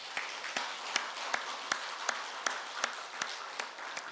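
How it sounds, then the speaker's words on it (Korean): Church congregation clapping in unison on Easter Sunday, a steady rhythmic beat of about three claps every second over a low bed of scattered applause. "영광의 박수 한번 올려드리겠습니다"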